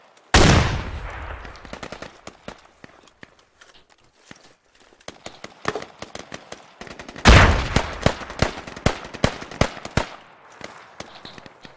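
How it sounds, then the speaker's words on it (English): Gunfire in the military shooter game Squad: sharp single shots and rapid bursts crack near and far, with a loud opening blast and a dense volley midway, sparse echoing pops between. "Who the heck is shooting?"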